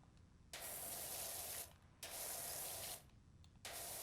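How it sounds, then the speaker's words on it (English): Pressure washer spraying in a video game, with bursts of broad hissing spray that switch on and off in long stretches, loud and steady with no talk over it. "Pressing the left arrow just automatically engages my spray at all times."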